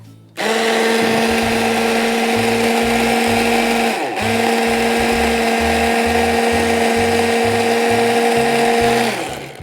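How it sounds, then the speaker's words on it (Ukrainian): A kitchen blender runs loudly and steadily while blending ingredients for Georgian-style eggplant rolls, with a brief dip in its whine partway through before it resumes at full power. "Зараз ми трішки допоможемо, щоб все наш блендер зачепив."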